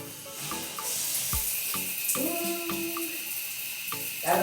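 Warm tap water runs from a faucet for washing braids, a steady close hiss with faint clinks and knocks scattered through it.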